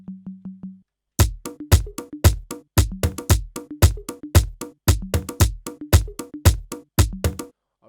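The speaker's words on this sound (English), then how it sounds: "then I brought in this conga too." A dry synthetic amapiano groove with an added conga: a short low tone pattern opens, then crisp percussive hits fall in a bouncy, syncopated rhythm, loud and close, with no voices.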